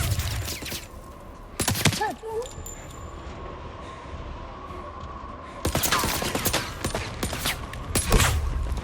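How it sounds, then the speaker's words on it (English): Video game gunfire in 007 First Light, sharp bursts of loud shots in two clusters near the start and end, with a quiet hum and faint electronic tones between them. "He's shooting us!"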